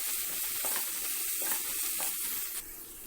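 Vegetables stir-fried in a pan with tomato sauce and soy sauce for wheat noodles, a steady close sizzle with scraping stirs at a regular beat, fading near the end.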